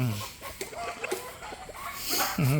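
Chickens at a poultry breeder farm cluck close by in scattered bursts, with a louder squawk near the end.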